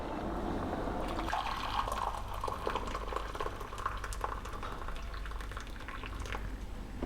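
About 1.5 pints of hot water pours steadily into a fermentation bowl for elderflower cordial, a continuous rushing, bubbling stream with no voices.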